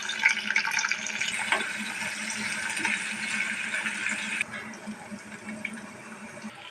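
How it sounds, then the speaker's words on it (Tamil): Water boils in a pot for ghee rice, a steady close hiss and burble that drops slightly in level partway through. "இப்போ நல்லா தண்ணி கொதிச்சு காயுது"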